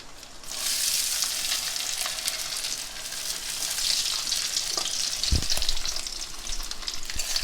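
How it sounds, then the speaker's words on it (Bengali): Chopped coconut hits hot oil with panch phoron and settles into a steady, bright sizzle and crackle, close and continuous, with a faint stir or knock partway through. "তেলের মধ্যে নারকেল কুচিগুলো ছেড়ে দিচ্ছি।"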